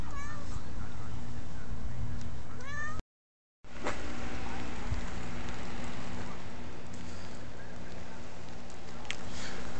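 A cat meows several times outdoors during a spring snowstorm, fairly close and clear over a steady background hiss, with a brief gap of silence partway through.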